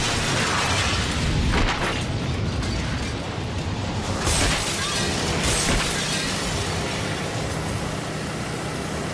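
A wooden beam fired at hurricane speed smashes through glass in an impalement test, bursting into a loud, sustained crash and shattering roar with scattered debris and breaking glass continuing throughout.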